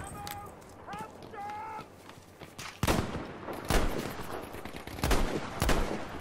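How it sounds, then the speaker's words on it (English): Sniper and rifle gunfire in the Battlefield V shooter game: several sharp, loud shots crack out at uneven intervals over a steady background of battle noise. "I'm just gonna start shooting in random spots."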